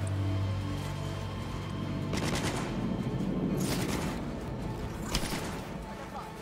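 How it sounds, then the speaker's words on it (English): Gunfire in the video game Cyberpunk 2077, several bursts of rapid shots cracking out in clusters over a steady in-game background hum, fairly loud, with a player's voice talking over the action. "Who is shooting?"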